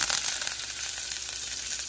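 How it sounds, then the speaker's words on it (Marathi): Mustard seeds and spices for tempering sizzle and crackle steadily in hot oil in a home kitchen, a close, continuous hiss with faint pops and no talking. "तर आता आपण ना फोडणीला घालतोय तर सगळ्यात आधी आपण गरम तेलामध्ये राई टाकायची"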